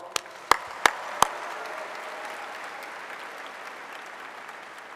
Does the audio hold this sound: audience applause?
yes